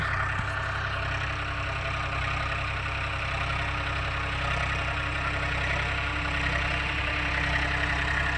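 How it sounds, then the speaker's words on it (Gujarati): A tractor engine idles on a farm with a steady, loud, low diesel drone that runs unbroken from start to finish, close by and without talk. "શેઠે ટ્રેક્ટર પહોંચવા આવ્યું"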